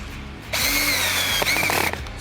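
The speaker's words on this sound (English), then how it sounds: "put your screwdriver bit in, your drill" Power drill with a screwdriver bit driving a thread-locked screw into a boot sole to fit rock treads, a loud close motor whine starting abruptly, holding steady with a brief dip, then easing off.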